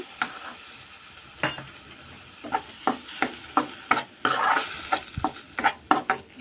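Dharwad peda mixture being stirred with milk in a pan on the stove: repeated close scraping and tapping strokes of a spoon against the pan over a soft, steady sizzle, with no talking.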